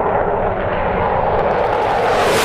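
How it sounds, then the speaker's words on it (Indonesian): A Su-27 fighter jet gives a loud, continuous roar that holds steady and brightens slightly toward the end, with no speech over it. "Lihat teman-teman, ada pesawat tempur"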